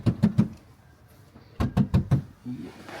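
Loose panel on a GMC Sierra 2500 HD door rattling and knocking in two quick bursts of three or four sharp hits, separated by a short quiet gap, close and fairly loud.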